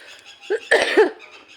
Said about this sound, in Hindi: एक खांसी गला पता नहीं क्यों दुखता रहता है